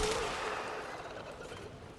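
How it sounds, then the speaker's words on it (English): A Grineer Volcar rifle fires in the video game Warframe: a loud, sustained burst of rapid gunfire that runs without a break and fades only slightly toward the end. "This is a Volcar, which is one of the Grineer weapons, actually."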